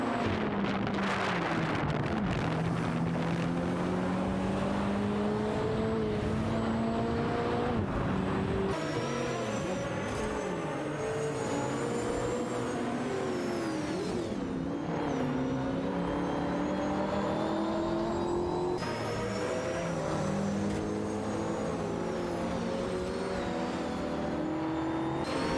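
AI-driven race cars in a racing video game scream through the gears, engine notes rising and dropping in repeated sweeps as they accelerate, several cars overlapping with a constant rushing wind noise underneath.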